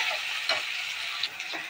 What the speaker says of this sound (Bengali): তো ডিমটা দিয়ে দিয়েছি, এবার কিছুক্ষণ ভাজা ভাজা করে নিব।